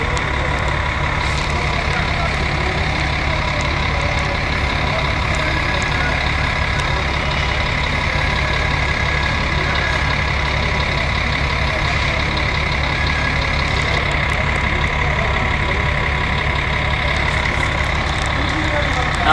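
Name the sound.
buses at a bus station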